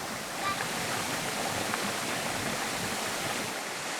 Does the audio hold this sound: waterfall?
yes